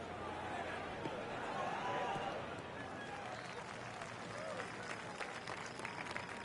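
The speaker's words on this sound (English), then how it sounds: "Crowd sounds are really good, very reactive." A distant video game golf crowd, in the PS4 game Rory McIlroy PGA Tour, applauds and murmurs in a sustained, even patter, with scattered brighter claps and faint chatter underneath.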